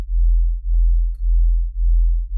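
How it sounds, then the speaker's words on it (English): Two slightly detuned sine waves beat against each other to make a low synth wub. A deep, steady tone swells and dips in about four even pulses, alone and loud. "What it does is it creates like a little bit of a wub, which is cool for our patch."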